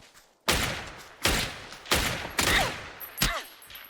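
Five loud gunshots from the video game PUBG, spaced roughly a second apart, each sharp crack trailing into a short echo.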